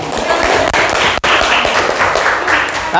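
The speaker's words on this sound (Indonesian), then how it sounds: "Tepuk tangan untuk namanya." Students in a classroom applaud classmates, giving a short burst of dense, close clapping that runs the length of the moment with brief gaps, a voice briefly audible at the end.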